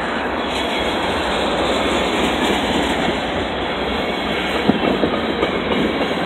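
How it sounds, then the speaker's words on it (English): Burlington Northern freight train rolling past close by, a steady loud broadband rumble and clatter of rail cars that holds throughout with a few sharper metallic knocks near the end. "When does this train end? Burlington Northern."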